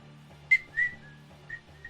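A man whistles a few short, clear notes, with a sharp chirpy burst followed by softer, fading tones, close and alone with a low hum underneath.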